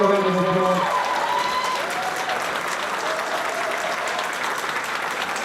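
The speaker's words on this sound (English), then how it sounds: "please give her a round of applause" Audience applause for an interpreter at a Chinatown community meeting about a proposed arena, a steady wash of many hands clapping at moderate volume, with a few faint tonal sounds over it at the start.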